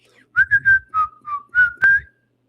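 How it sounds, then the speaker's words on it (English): A person whistles a short wavering tune alone, several clear notes in a quick phrase followed by a few longer sliding notes, close and fairly loud. "I like to whistle."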